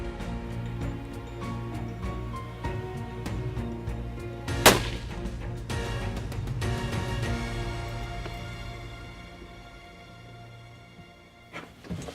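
A single sharp rifle shot fired at a buck on a Texas deer hunt from a box blind, loud and close, followed by quieter rustling and a faint thump near the end.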